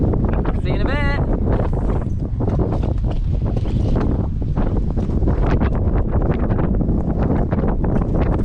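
Strong wind buffets a boat, roaring loudly and continuously over the microphone, with a brief faint voice early on.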